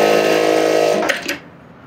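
A sewing machine runs a rough stitch along a 3/4-inch fabric strip, a steady close whir lasting over a second before it slows with a couple of clicks and stops, leaving quiet.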